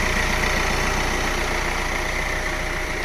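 A 2019 Hyundai Creta mid-variant diesel car idles with a steady, close low engine hum and a constant rumble throughout, with no talking.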